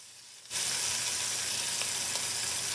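Chopped carrots, celery and onion hit hot oil with a sudden loud, steady sizzle after a brief quiet start, a close, continuous hiss of frying that holds on to the end.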